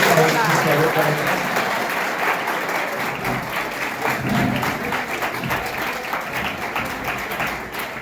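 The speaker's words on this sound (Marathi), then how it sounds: "एकदा जोरदार टाळ्या स्वागत करायचं" Loud, sustained applause from an audience welcoming a guest speaker at a college career-guidance lecture, a dense wash of clapping filling the whole stretch with no letup.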